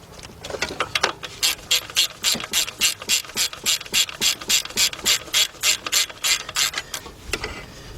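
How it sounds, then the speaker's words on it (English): A 3/8-inch drive ratchet with a 13 mm deep socket backs a nut off on a 2004 Chevy Monte Carlo 3.4 engine, clicking in a fast, even run of loud, close pawl bursts. "Get my 3/8 drive ratchet, pop that right off."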